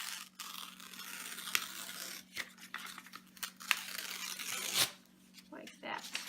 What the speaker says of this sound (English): You're just going to take your paper and tear it